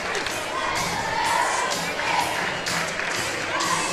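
Crowd at a Fort Gibson school sports game cheering and shouting from both sides of the stands, a steady dense roar with swelling bursts throughout, music and cheerleaders part of the atmosphere.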